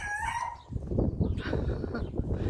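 Backyard chickens in a windy garden, with a brief high crow or call near the start followed by steady clucking and rustling close by under gusty wind noise.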